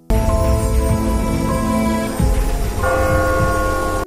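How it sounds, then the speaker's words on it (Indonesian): Bell ringing at a sacred temple, loud resonant strikes with long ringing overtones, a second strike landing around midway and the tone sustaining to the end. "Dia berdoa kemudian mendengar suara lonceng di kuil suci."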